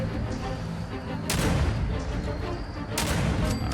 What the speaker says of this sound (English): So we'll go ahead and shoot his shit up.